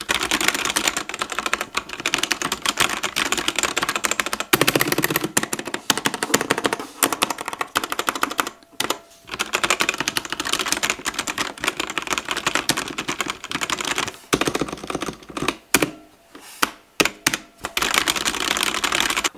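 Budget mechanical keyboard with red switches being typed on, a steady, close clatter of rapid keystrokes with a few brief pauses, no talking.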